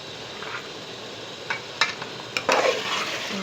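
Potatoes being fried and stirred in a pan: a soft, steady sizzle with a few brisk scrapes and clinks of a spoon against the pan near the end.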